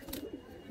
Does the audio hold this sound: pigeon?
yes